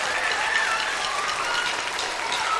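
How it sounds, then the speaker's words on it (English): A small group claps and cheers together in steady, dense applause that fills the whole moment at even loudness, with no voice speaking over it. "Give yourselves a little round of applause."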